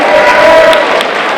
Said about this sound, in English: Give them another round of applause for being with us today